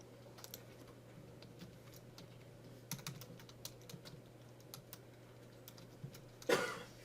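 Quiet bursts of computer keyboard typing in a classroom, scattered clicks in short runs over a low steady hum, ending with a louder clatter near the close.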